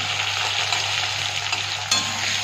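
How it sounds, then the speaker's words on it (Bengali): Chopped onion fries in hot oil left over from frying eggs, a dense, steady close sizzle with a brief scrape or stir near the end and no talking. "এখন যে তেল আছে এই তেলে দিয়ে দিলাম পেঁয়াজ কুচিটা দিয়ে দিলাম"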